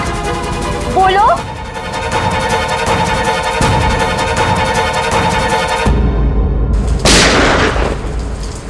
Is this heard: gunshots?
yes